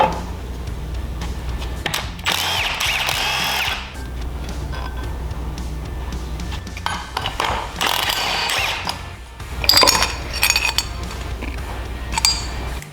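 Power tool work on a Predator 224cc engine: bursts of metallic ratcheting and whirring while the flywheel nut comes off, close-up over a low hum, with clanks and pauses between bursts.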